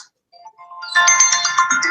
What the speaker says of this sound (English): Sorry, let me answer the phone.